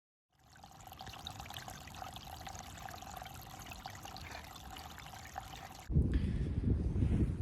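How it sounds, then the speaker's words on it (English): Fresh spring water trickling and splashing beside a mountain trail on the approach to the Appalachian Trail near Black Rock Gap, a steady close stream that grows suddenly louder and fuller partway through, with no talking. "Water. Gotta love it."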